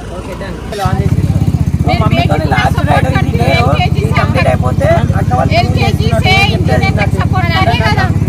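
A small engine on a mini jeep starts and runs with a steady buzzing putter throughout, close and loud, while people talk over it.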